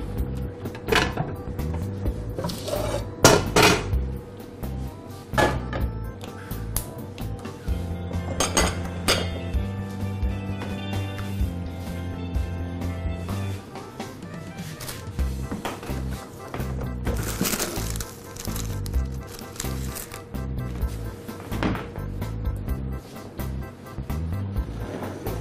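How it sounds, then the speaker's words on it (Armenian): Metal cookware clanks and clinks against a stovetop, with scattered knocks and rattles of pans and utensils in a kitchen. "տապակը հայտնվում է գազօջախին"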